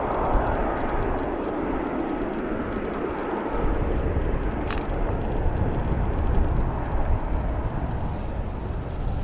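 An airliner taxis along taxiway Bravo at O'Hare International Airport, its engines making a steady, broad roar at moderate distance that holds even and unbroken throughout.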